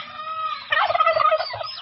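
A turkey gobbles close by, a loud, rapid, warbling burst that rises sharply from a softer lead-in call and stays strong for about a second.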